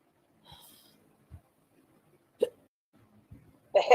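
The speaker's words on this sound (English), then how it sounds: "The hiccup at the end." A single sharp hiccup closes a quiet stretch of soft breaths and small mouth noises, loud and close at the very end.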